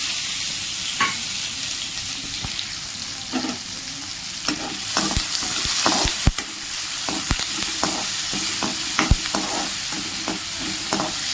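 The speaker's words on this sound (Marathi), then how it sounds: "तेल कांद्यामध्ये आपण परतून घेऊया" Chopped onion with tomato, coriander, curry leaves and chili sautéing in oil in a hot kadhai, a loud close sizzle with frequent scraping stirs and clinks from a spatula.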